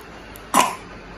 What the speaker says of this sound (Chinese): 咳嗽要吃药